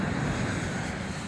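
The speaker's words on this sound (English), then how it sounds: "जब badly damage DC-10 वापस इसी एयरपोर्ट की तरफ बढ़ रहा है।" Engines of a badly damaged DC-10 airliner returning to Detroit give a steady, dense roar, fairly faint and unbroken, with no talking.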